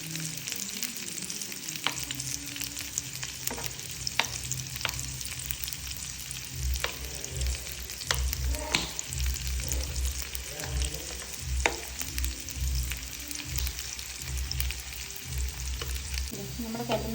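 Stuffed mussels fry in a pan with a steady close crackling sizzle of hot oil, broken by occasional clinks and scrapes as the pieces are turned, and no one speaking.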